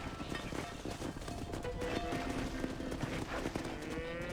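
Cattle being herded in the video game Red Dead Redemption: a dense, continuous wash of hooves, lowing and movement from the herd, steady and fairly loud throughout with no speech.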